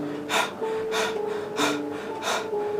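A voice imitates heavy panting: four loud, rhythmic breaths, close to the ear, like someone catching their breath after a run.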